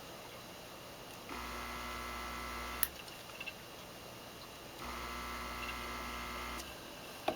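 A Hailea ACO-9730 aquarium air pump with hoses attached runs in two long stretches of steady droning hum with a buzzing tone, broken by a quieter pause, no talking.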